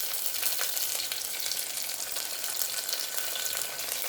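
Food frying in a pan, a dense, loud, steady hiss of sizzling oil that runs unbroken and close throughout, with no talking.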